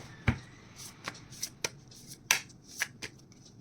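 Time oracle cards being shuffled, a series of crisp riffling flicks and slaps in irregular bursts, close and fairly quiet with no talking.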